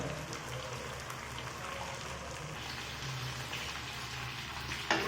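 Spices crackle in hot oil for a Bengali hilsa fish curry, giving a dense, continuous sizzle like heavy rain, close and steady, with a sudden clatter right at the end.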